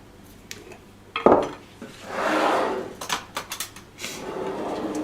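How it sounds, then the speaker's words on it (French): Vegan brioche dough is roughly stirred in a bowl, with a knock of the utensil, a swelling scraping swish, then a run of short irregular taps and scrapes against the bowl, close and quiet without speech. "Donc je mélange juste grossièrement comme ça."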